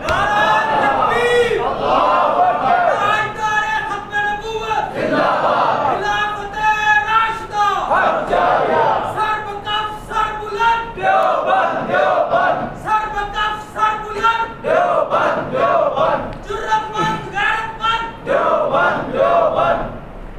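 A large crowd chants slogan responses in unison at a religious gathering in Pind Dadan Khan, voices rising in repeated loud waves that fill the space continuously with no pause.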